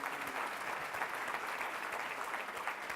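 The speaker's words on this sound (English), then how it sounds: "Please give a word of applause to" Audience applause at a plenary session on post-disaster recovery efforts, a steady, dense wash of clapping that holds at an even, moderate level throughout with no voices over it.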